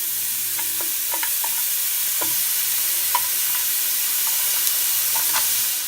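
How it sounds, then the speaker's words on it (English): Cheesesteak meat fries with a constant loud sizzle in a pan while a utensil breaks it up, giving irregular clicks and scrapes over the hiss, close by with no one speaking. "Take the cheesesteak, break it up."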